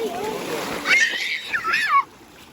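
Water splashes at the sea, with children playing in the shallows; two or three loud splashy bursts come close by, and children's voices are mixed in.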